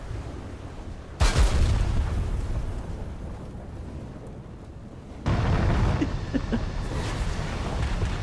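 Aircraft rockets hit their targets in War Thunder air combat. Two heavy explosions, seconds apart, each open with a sharp boom and roll into a long rumble over engine drone, with no talking.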